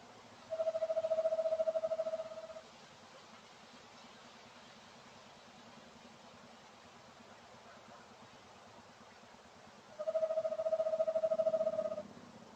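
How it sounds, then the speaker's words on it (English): Two separate whistled calls from a screech owl on a nearby perch at night, each about two seconds long, ring out at a steady pitch and are spaced well apart over a faint background hiss. "here I captured a screech owl calling on a perch nearby"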